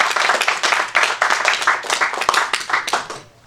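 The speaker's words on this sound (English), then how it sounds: "You can give a round of applause, please." A smaller conference audience at an ERN board panel in London claps in a brief burst, individual hand claps distinct and uneven, fading out after about three seconds.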